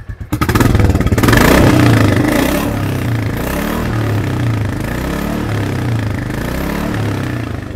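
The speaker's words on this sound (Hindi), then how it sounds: "बाकी जो इसका एग्जॉस्ट साउंड है वो भी आपको सुना देते हैं।" A 2024 Royal Enfield Classic 350 motorcycle exhaust starts with a burst, then a loud, deep thumping single-cylinder idle with repeated revs rising and falling, close by and without speech.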